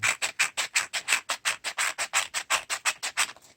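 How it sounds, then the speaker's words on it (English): Sandpaper rubbed over a hand-carved wooden spoon in quick, even back-and-forth strokes, about twenty close, crisp scratchy passes with a steady rhythm and nothing else audible. "you have to just sand it"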